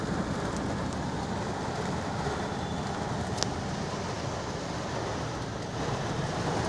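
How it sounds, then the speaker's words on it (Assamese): Steady, dense downpour of heavy rain, a continuous loud hiss with no pauses, and a brief faint crack midway. "বিৰাট ডাঙৰ বৰষুণ আহি গ'ল।"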